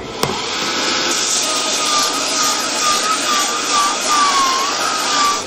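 A farrier's drill bores into a steel horseshoe to set tungsten studs for grip on ice, giving a continuous grinding whine that wavers slightly in pitch after a sharp click at the start.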